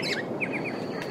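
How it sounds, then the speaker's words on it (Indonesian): A crow call sound effect plays during a children's church-school puppet show, a quick series of short, bright chirping calls, fairly faint and unaccompanied by speech. "Oh, burung gagak."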